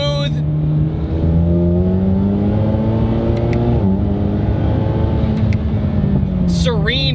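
Turbocharged 2.0L four-cylinder engine in a 450 hp Chevy Camaro revving up, a loud droning tone climbing steadily in pitch for several seconds, with brief talk at the end.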